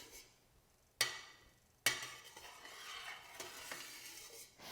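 Cheese curds for feta being stirred in a pot, with two sharp utensil knocks against the pot's side followed by soft, continuous swishing and scraping close by, with no voices.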